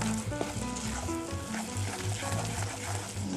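A vegan gluten-free and soy-free ground beef substitute cooks in a pot with a steady, moderate sizzle and soft stirring scrapes, heard close with no talking.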